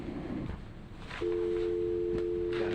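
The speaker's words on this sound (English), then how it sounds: "Let's make a phone call." A steady electronic tone sounds over a speakerphone at a special city council meeting, holding unbroken for the second half of the clip under room murmur with no speech.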